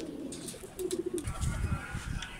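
Soft pigeon cooing close by, a few low throaty coos against quiet background rustle.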